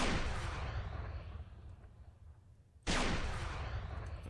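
A heavy weapon in the Arma 3 video game with a Warhammer 40k mod fires twice, each a loud booming blast with a long decaying rumble, the second shot coming about three seconds after the first.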